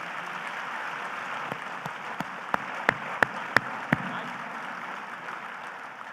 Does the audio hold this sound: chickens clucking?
no